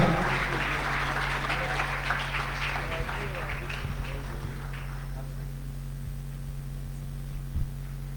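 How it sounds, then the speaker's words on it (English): Audience applause for a church pastor at an awards event, a dense steady clapping from a crowd that thins and fades toward the end, with a low hum underneath. "Please, let's do more of that clapping"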